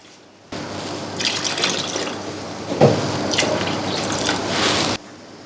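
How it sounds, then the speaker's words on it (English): Water pours steadily for about four and a half seconds into a pot of chicken and rice, a continuous splashing fill heard alone. "I'll be taking 3 glasses of water."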